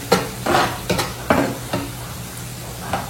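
A spoon scrapes repeatedly through a garlic and chili mixture in a hot frying pan, giving half a dozen loud, rhythmic stirring strokes over a soft sizzle.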